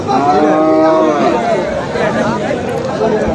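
Cattle low loudly nearby over a steady murmur of crowd voices, one long drawn-out moo standing out in a busy Qurbani cattle market in Nagarpur, Tangail.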